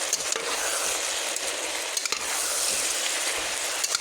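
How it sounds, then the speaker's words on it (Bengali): Curry with chilli powder, prawns, potatoes and taro stolons being stirred and fried in a pan, a dense, loud, unbroken sizzle with faint stirring scrapes throughout. "ভালো করে নেড়ে এগুলো কষিয়ে নেবো তরকারি।"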